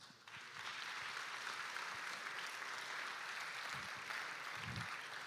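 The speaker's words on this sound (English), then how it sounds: "Give yourselves a massive round of applause." An audience at the ETHGlobal Lisbon hackathon closing ceremony breaks into a massive round of applause, a dense, steady wash of clapping that holds for several seconds with a few low thumps.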